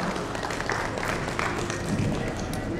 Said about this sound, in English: can we have a huge round of applause for Vinish Shah, Chief Business Officer, Craft Silicon